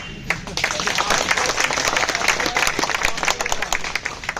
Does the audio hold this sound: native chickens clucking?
no